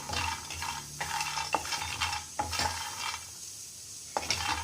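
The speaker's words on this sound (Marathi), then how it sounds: "तर पहिले आपण शेंगदाणे टाकूया, त्याला भाजून घ्यायचं आहे।" Peanuts dry roasting in a hot pan on a gas stove, giving a dry rustling, scraping stir with a few sharp clicks of a utensil against the pan, close up and steady, with no talking.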